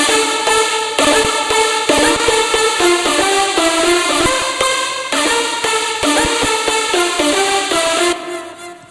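A bright synth lead plays a quick, stepping melody over a driving electronic beat, loud and continuous before fading out at the end.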